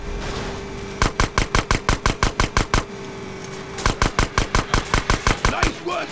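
Rapid bursts of gunfire in GTA San Andreas aimed at a sewer gate, loud and close, in two volleys of about a dozen evenly spaced shots each, separated by a short gap over a low engine-like drone.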